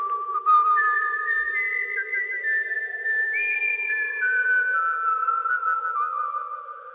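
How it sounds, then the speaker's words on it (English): Someone whistles a slow, wavering tune alone, clear and close, with smooth sliding notes held for several seconds each. "and he whistled"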